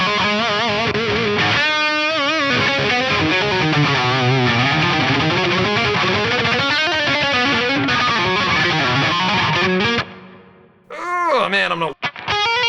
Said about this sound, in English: this has a Dimarzio, single coil size rail humbucker in the neck position and a Seymour Duncan distortion in the bridge